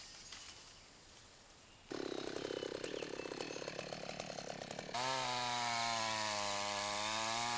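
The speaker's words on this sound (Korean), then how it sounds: "톱질 역시 나무가 넘어갈 방향을 고려해 신중하게 진행합니다" A chainsaw fells a tree in Javanese jungle, Indonesia: the engine kicks in after a quiet start, buzzing unevenly, then revs up to a loud, steady whine.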